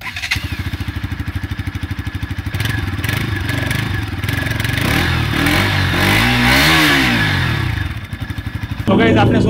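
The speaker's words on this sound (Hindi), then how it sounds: "सो गाइस, अभी सुन लेते हैं एग्जॉस्ट नॉट।" A Bajaj Pulsar RS200 BS6 motorcycle idling with a close, steady exhaust thrum, then revved up and back down in a smooth sweep before settling and blipping again.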